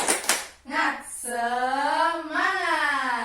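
Children perform a spirit clap, a few sharp hand claps followed by a loud chanted children's voice calling out in unison, close and clear in a classroom.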